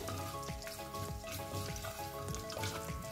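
Cinnamon pieces, star anise and a bay leaf sizzle in hot oil for cooker pulao, a soft, steady crackling fry with faint pops, quiet and close.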